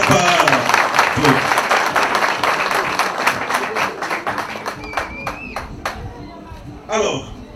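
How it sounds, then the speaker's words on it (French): Lively audience clapping at a fan club launch event, loud at first and gradually thinning into scattered claps, with voices and cheers mixed in and a short shout near the end. "si pour l'occasion on peut les applaudir, ça ne sera pas trop"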